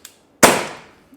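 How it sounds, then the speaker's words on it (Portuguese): A single close, loud shot from a Crosman PT92 CO2 airgun pistol: a sharp crack with a gassy burst that decays over about half a second, preceded by a faint click. "Primeiro disparo, PT92 da Crosman,"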